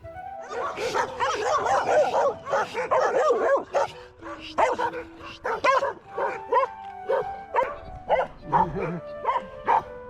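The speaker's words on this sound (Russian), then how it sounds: "Даже собаки грозные, громкие, не пугали, просто сторожили свой дом." Several dogs guard their home in rural Turkish countryside near greenhouses, barking loudly and close in rapid overlapping bursts, mixed with yips and whimpering.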